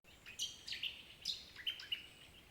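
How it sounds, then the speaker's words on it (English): Birds sing in a quiet garden, with several bright, quick chirps and short tweets spread across the clip, faint and fairly close, with no talk. "And you sit there and all you hear are the birds going"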